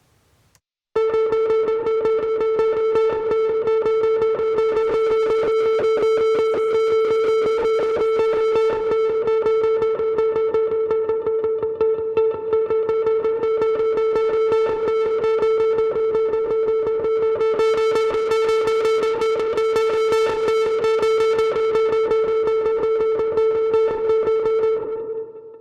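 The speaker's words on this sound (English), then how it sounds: "distortion introduces more drive and filter rolls out the top end" A sustained distorted electric guitar chord, processed with a Raw distortion effect and filter, rings out loud and steady for over twenty seconds, buzzing and gritty, with a brief brighter stretch near the end.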